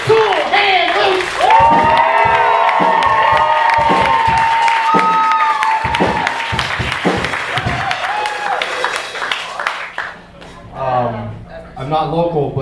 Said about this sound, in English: Everybody, clap your hands together, give a warm welcome to my personal friend, my little buddy, Cool Hand Luke.